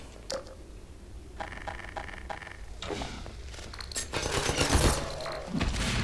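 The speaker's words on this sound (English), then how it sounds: "Oh god, turrets." Automated turrets open fire in Half-Life 2 Episode 1, sending bursts of rapid gunshots that start and stop in clusters, growing louder and denser toward the end amid scattered clanks and thuds.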